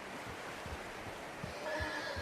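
A horse in the video game Red Dead Redemption 2 neighs in a short, moderately loud whinny with soft clip-clop and ambient game noise around it.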